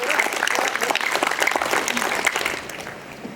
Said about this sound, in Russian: Давайте похлопаем Марине Федоровне еще раз.